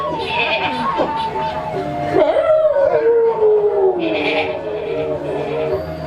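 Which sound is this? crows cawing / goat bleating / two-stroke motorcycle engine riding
goat bleating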